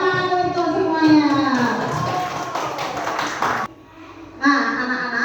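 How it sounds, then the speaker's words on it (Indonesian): Children clap together in an Islamic religious lesson classroom, a burst of hand claps mixed with young voices calling out, breaking off briefly before the chatter picks up again. "Oke, tepuk tangan untuk semuanya."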